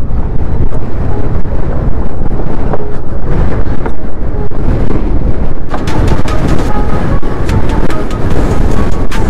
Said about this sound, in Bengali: ব্রিজের উপর দাঁড়িয়ে রয়েছি আর হাওয়া দিচ্ছে